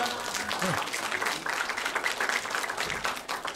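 An indoor audience at a product testimonial gathering applauds with dense, sustained clapping at steady loudness throughout, while a voice briefly speaks over it.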